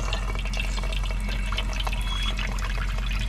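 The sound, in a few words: water running into chicken waterer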